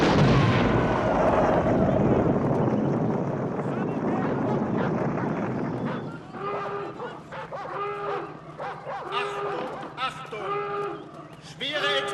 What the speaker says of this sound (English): Schwere Explosion im Abschnitt 1.